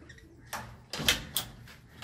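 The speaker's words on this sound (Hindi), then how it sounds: "दरवाज़ा पहले बंद कर लें," A door is pulled shut at a parrot cage, giving a run of rattling clacks and knocks, fairly faint, with the loudest impact in the middle and smaller bumps around it.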